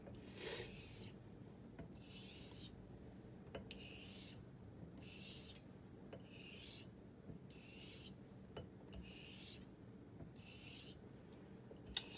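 Steady back-and-forth rasping strokes of a straight razor being honed on a sharpening stone, working the heel edge, about a dozen evenly spaced passes, quiet and close with no talking.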